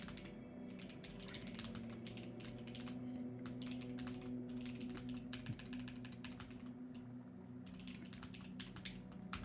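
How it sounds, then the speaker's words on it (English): Fast, steady typing on a computer keyboard clatters continuously at low level over a faint room hum, with dense overlapping keystrokes. "That's what I'm typing right now."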